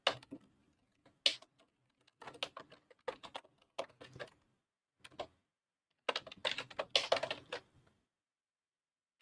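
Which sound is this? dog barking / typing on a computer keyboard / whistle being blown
typing on a computer keyboard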